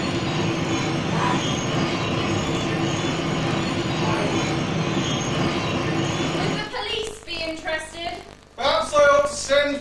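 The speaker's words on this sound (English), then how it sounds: "That'll be your mother's train now." A train rumbles close by with a steady roar that cuts off abruptly, followed by quieter murmuring and brief voices talking.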